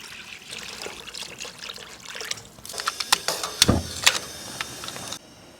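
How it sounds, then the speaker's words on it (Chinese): Water is poured into a cooking pot holding fresh lamb ribs. A faint trickle builds into a louder, splashy pour for a few seconds, then cuts off. "加点水。"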